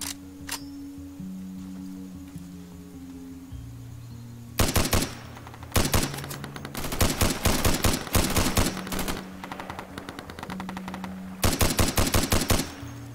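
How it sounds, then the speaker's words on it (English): Bursts of automatic gunfire from the video game Insurgency, with several rapid volleys separated by pauses and quieter background game ambience between them, loud and close. "Just taking shots here at random,"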